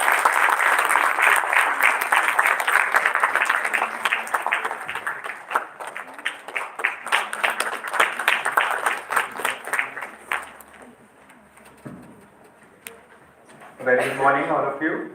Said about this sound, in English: Please give a round of applause to Dr.